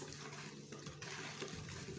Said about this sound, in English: So I'm gonna pour this in a container,